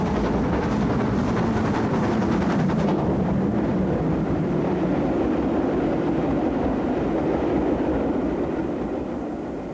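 GWR Castle-class steam locomotive Nunney Castle, built in 1934, hauling a train through the Chilterns from Paddington to Stratford-upon-Avon: a steady, loud rumble of moving train with wheel noise, a brief burst of sharper chuffing early on, easing slightly at the end.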